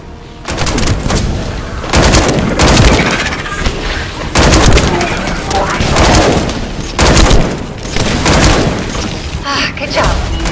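Gunfire and explosions erupt during an attack on a repeater in The First Descendant video game: loud, close rattling volleys and booms arrive in heavy bursts about every two seconds, with brief lulls between.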